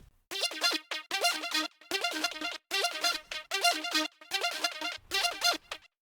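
A short synth phrase from a trap beat, processed with a Shaperbox 3 preset, repeats in even bursts, bright and buzzy with a bouncing pattern, each burst separated by brief gaps.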